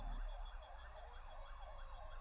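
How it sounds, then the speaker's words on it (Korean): A fire engine siren wails continuously, its tone rising and falling in a steady repeating sweep, loud and close, with no voices over it. "소방차의 경보가 들리면"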